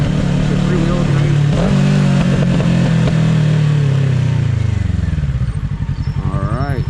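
A motorcycle ridden to high school drones loudly and up close, engine pitch rising and falling with wind rush, and a voice talks briefly over the ride.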